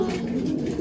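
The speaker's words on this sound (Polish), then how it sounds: "jest kolejny gołąb" A racing pigeon at its loft gives a low, soft coo, heard close and alone in a brief burst.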